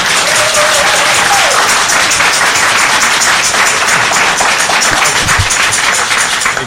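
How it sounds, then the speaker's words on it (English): Loud, continuous applause fills a budget and finance committee meeting room, thick rapid clapping from many hands with a faint murmur underneath. "Now you can applaud."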